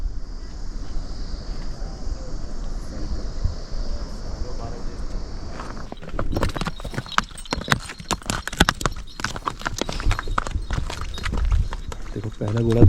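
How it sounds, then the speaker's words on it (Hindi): Horse hooves clip-clop on a Himalayan trek trail as a horse carries a rider, a run of sharp close hoof strikes in the second half, with a voice talking and wind noise in the first half. "देखो पहला घोड़ा दिखाई दिया है किसी को ले जाते हुए"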